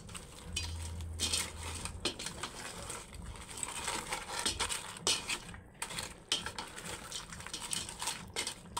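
Food stirred and mixed in a pot while cooking creamy crablets with vegetables, a run of soft clinks, scrapes and knocks of a utensil against the metal, close but fairly quiet, with no talking.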